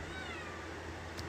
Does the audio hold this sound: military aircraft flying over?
no